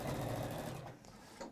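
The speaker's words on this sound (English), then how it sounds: "Do a bit of motorway sewing. Foot to the floor." A domestic sewing machine stitches at full speed with the foot pedal pressed down, giving a loud, dense, continuous whir. The sound then tapers off as it slows to a stop.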